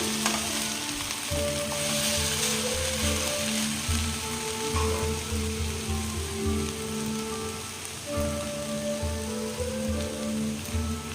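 Chow noodles stirred and tossed in a frying pan, a steady hiss of sizzling oil with soft scraping and clattering from mixing, continuous and fairly loud throughout with no talking.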